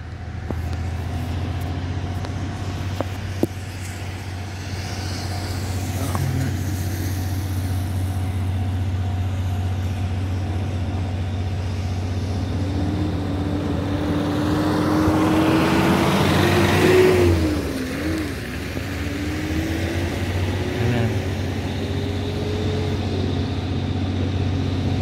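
A blue R167 diesel-electric locomotive hauling the DT668 steam locomotive, a power car and DR3100 cars approaches on the single-track Hualien–Taitung line, its low engine rumble droning steadily and swelling as it nears, with a wavering tonal sound midway.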